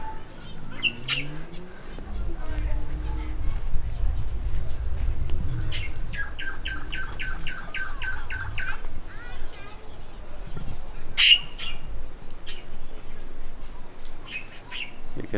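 Birds squawk and chirp in repeated harsh bursts, with a rapid rattling call midway, while people talk quietly in the background at a wildlife sanctuary in Brisbane, Australia.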